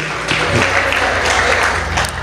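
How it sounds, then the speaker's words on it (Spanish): A church congregation at a Shavuot service claps together, a dense burst of applause that swells and holds steady across the whole moment, with no clear voices on top. "Dele un aplauso al Señor"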